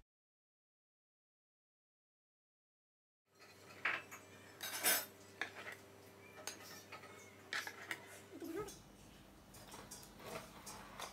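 A knife finely chops beef offal with horse fat on a board, giving irregular sharp taps and clicks close up after a few seconds of silence.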